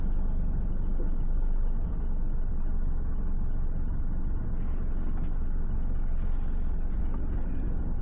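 Busy rush-hour road traffic at a Tampa street corner: a loud, continuous low rumble of cars and engines passing close by, with no pauses and no voices.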